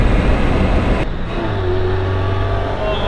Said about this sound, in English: let's see if we can get to that next bit of dual carriageway, do a nice little bit of fast driving for her